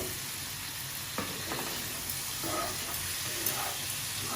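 Potato pieces fry with onion and spices in a pan, giving a steady, even sizzle with a few faint stirring taps and no voices.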